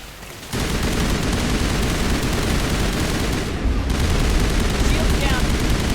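Sustained gunfire and explosive rocket impacts in the Mass Effect game, a loud dense roar of shots that starts abruptly and barely lets up for several seconds.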